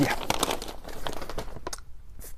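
A paper grocery bag crinkles and rustles with several crisp, uneven bursts up close, loud at first and then thinning into short crackles before fading near the end.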